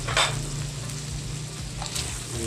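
Squid balls drop into pancit canton frying in a pan, giving a faint, steady sizzle with a couple of sharp clatters near the start and again toward the end.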